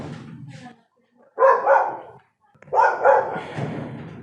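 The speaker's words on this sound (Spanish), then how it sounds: "Si escuchan un perro, es que mi perro está ladrando" A dog barks in two loud bursts, each a cluster of sharp barks separated by a brief quiet gap, with a fainter sound just before.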